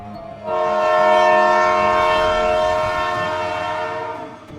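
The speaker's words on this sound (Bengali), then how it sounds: "একটা দীর্ঘ ট্রেনের বাঁশি।" A long, sustained train horn blares loudly and close, holding a steady chord for several seconds before fading, with faint rail rumble underneath.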